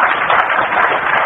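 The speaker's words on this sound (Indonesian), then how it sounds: "Di tepuk tangan untuk kebenaran ini." Audience applause during a church sermon on the Book of Revelation: dense, steady clapping from a crowd, loud and continuous throughout with no voices over it.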